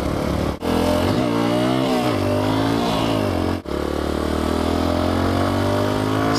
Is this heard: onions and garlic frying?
no